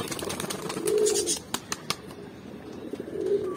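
A pigeon lands with a flurry of flapping wings in an outdoor Kerala setting, with a few sharp wing claps in the middle and soft cooing or calls around them, fairly close and moderately loud.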